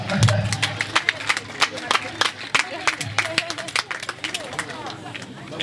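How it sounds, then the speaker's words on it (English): An audience at a neighbourhood anniversary and launch event in Lamin Village breaks into applause, a scattered burst of sharp individual claps that thins out unevenly, with a voice speaking nearby over the clapping. "Can we have a round of applause for her?"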